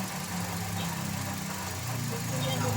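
A rough, noisy Toyota Avanza engine idles steadily nearby, its low rattling hum constant throughout.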